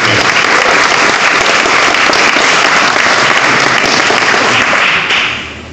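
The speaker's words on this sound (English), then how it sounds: "I think we can have a round of applause for that." Festival audience at a sci-fi and fantasy book event breaks into sustained, loud applause, a dense wash of clapping that holds steady for several seconds before tapering off at the end.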